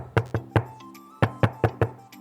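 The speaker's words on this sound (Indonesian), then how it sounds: "Kita kalau udah mulai ketuk pintu," Knuckles rap on a door in two quick groups of sharp, close knocks, three and then four, with a short pause between them.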